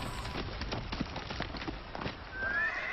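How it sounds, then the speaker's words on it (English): Horses clatter along at a fast pace, hooves drumming steadily, with a brief whinny near the end; moderately close and fairly quiet. "horses appeared in the moonlight, galloping down the hill towards the inn"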